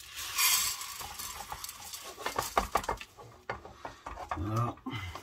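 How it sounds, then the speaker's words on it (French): Hemp seed is tipped into a drained saucepan and stirred, giving quiet scraping, rattling and tapping against the pan in an uneven series, with a voice murmuring now and then. "Je vais placer le chènevis dans la casserole qui a égoutté."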